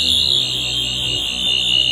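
A Tenth Doctor sonic screwdriver prop replica emits a loud, continuous high-pitched electronic whine with a warbling buzz underneath, sustained steadily for about two seconds.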